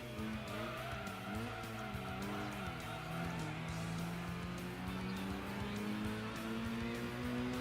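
Gran Turismo 2 race car with just over 200 horsepower revving hard, its steady engine drone rising in pitch through the gears, with tire squeal and a continuous loud roar throughout.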